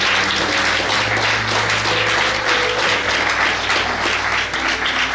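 A church audience at a Friday evening preaching service breaks into sustained, even applause to welcome the preacher, a dense steady wash of clapping with a low hum underneath and no voices standing out.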